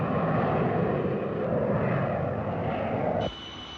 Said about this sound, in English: Now the jet bombers of the RAF are coming along.